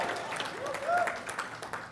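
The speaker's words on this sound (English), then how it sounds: "Hold for applause." Audience applause at a comics awards ceremony, a brief spread of clapping with some voices mixed in, moderately distant and steady.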